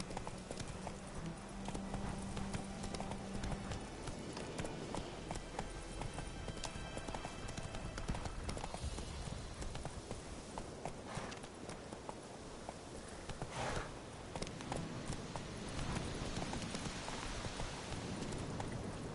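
Hooves of a horse galloping in The Witcher 3 video game drum in a fast continuous clip-clop, close and steady, over ambient background sound.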